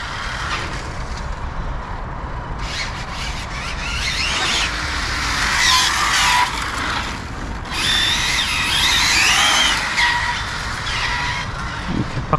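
An ARRMA Infraction 6S RC car whines through a run outdoors on a breezy day, its high-pitched electric motor rising and falling in pitch as it accelerates and passes, loud and continuous with no talk.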